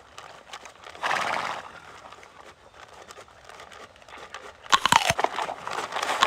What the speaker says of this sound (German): Gib doch Flocke mal ein Leckerli.